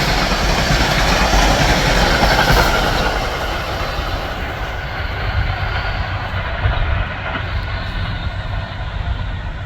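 A P32 locomotive-hauled train rolls past close by at Riverdale, a loud continuous roar of wheels and cars with rhythmic clatter that holds steady, then thins slightly in the upper range toward the end.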